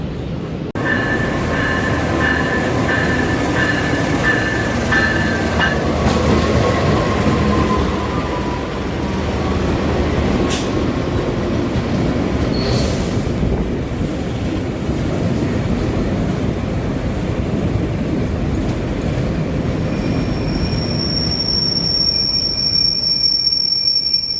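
The KA Kamandaka passenger train rolls steadily past on Indonesian rails, a continuous close rumble of wheels and carriages with occasional high metallic squeals, lasting throughout with no talk.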